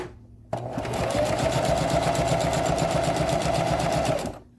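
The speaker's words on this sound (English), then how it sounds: "We're going to close up the bottom. 1/4 inch seam allowance." A sewing machine starts abruptly and stitches a quarter-inch bottom seam on a handbag, a fast, even mechanical whir with rapid rhythmic needle clicks, close and alone before it slows to a stop.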